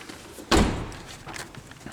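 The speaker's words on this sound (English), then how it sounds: "shut the limo door" A limousine door slams shut with a single loud, close thunk, followed by quieter handling noise and low background sound.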